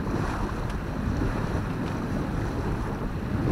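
A sailboat motoring with its mainsail up on the return to Île de Ré, a loud continuous engine drone mixed with wind buffeting the microphone and water rush, no voices.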